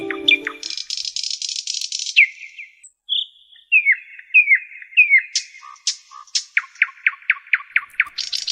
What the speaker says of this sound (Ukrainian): Соловейко тьох-тьох-тьох, потанцюємо удвох